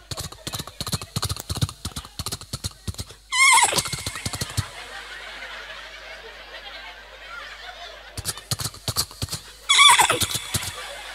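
At a live Maulid Nabi religious gathering in Cikarang, a voice imitates a horse, with rapid clicking clip-clop mouth sounds around two loud, shrill neighing whinnies into the microphone.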